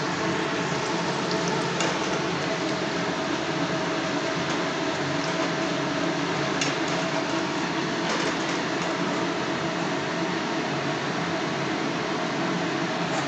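Dalpuri frying in hot oil in a kadai gives a steady, close, even sizzling hiss that holds at the same level throughout, with no voices.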